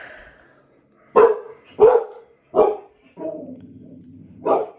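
A pet dog barks indoors at home after someone comes to the door, with four loud, close barks in an uneven rhythm and a low growling whine between them.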